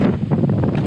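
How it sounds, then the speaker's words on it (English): Wind gusting across a fog-covered trail high on a dormant Caribbean volcano, Mt. Liamuiga, a loud steady broadband rush buffeting the microphone with no voices. "not funny with that wind around there"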